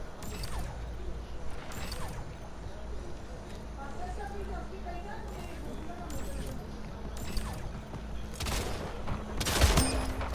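Shotgun blasts ring out in the first-person shooter Splitgate, a string of loud, heavy reports spaced a second or two apart over a busy mechanical game backdrop, with voices talking underneath.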